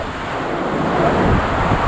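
Strong typhoon wind and heavy rain lash Baggao, Cagayan, a steady, loud broadband roar that holds without break and swells slightly toward the end, with no voices.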